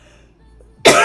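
A single sharp, loud cough bursts out near the end after a quiet stretch, close to the microphone.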